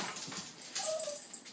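A dog whimpers and yips softly at feeding time in a short, faint burst of high, thin cries, close by with no talking.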